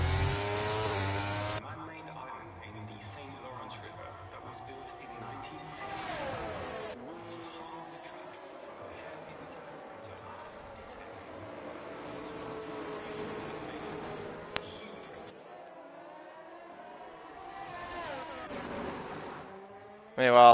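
Formula race cars in a racing video game scream past one another as a McLaren overtakes a Ferrari at the Canada round, high whining engines rising and falling under steady talk, with a sharp burst of revving at the end.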